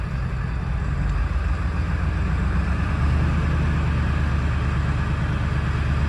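A Ford 7.3L truck engine runs rough and hammers, its vibrating truck giving off a steady, loud, close low rumble with a knocking pulse throughout, and nobody talking.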